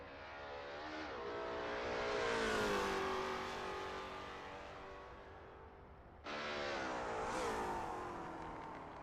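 Lola T70 MkII Spyder race cars at Sebring International Raceway in a racing video game, engines roaring past one after another, each swelling and fading as it passes.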